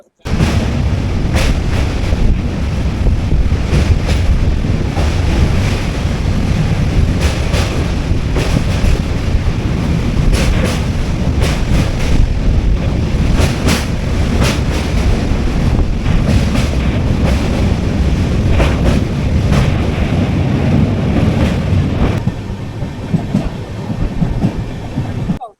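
The Jammu Tawi Express (13151) running between Barakar and Kumardubi, a loud continuous rumble with rhythmic wheel clatter and wind buffeting, heard close from on board.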